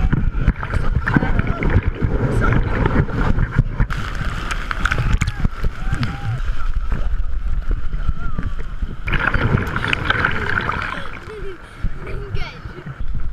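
Breaking ocean surf on the Northumberland coast during a bodyboarding session: a steady roar of churning water and wind buffeting the microphone, with people shouting over it.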